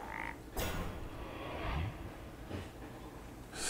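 A frog croaks in the Hearthstone card game, a few low, gruff croaking sounds amid game effects, including a sharp burst, heard without speech.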